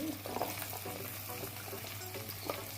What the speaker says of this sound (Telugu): కట్ చేసి పెట్టుకున్న మునక్కాయలు వేసుకుందాం